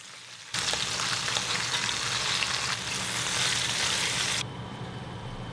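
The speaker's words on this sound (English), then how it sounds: "Keep turning the portions of the oxtail until all sides are brown." Oxtail pieces browning in hot oil in a pot give a steady, loud sizzle that holds for about four seconds before dropping to a quieter background hiss; no voices.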